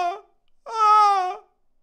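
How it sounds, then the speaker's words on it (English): A vocal coach demonstrates a little moaning vocal sound: a short bright whimpering note, a pause, then a longer sustained cry-like tone, close and alone. "the bright part you get by making a little moaning sound like this."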